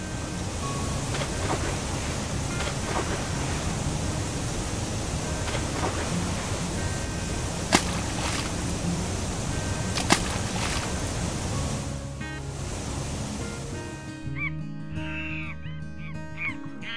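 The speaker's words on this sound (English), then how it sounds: "Then we went to Laham Waterfall." Lakkam waterfall in Munnar, Kerala, pouring as a steady, close broadband rush of water with a few sharp splashes, fading out toward the end.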